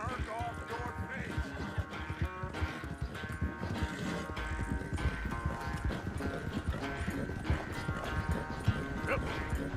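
Horse hooves clip-clopping steadily in Red Dead Redemption 2, a continuous rhythmic trot close by, layered under music and a busy game mix.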